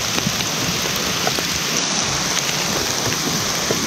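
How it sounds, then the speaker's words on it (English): Heavy rain pounds steadily on a tarp at a trailside camp, a dense unbroken roar of drops with scattered sharper patters, loud and close throughout. "it is just raining so hard right now"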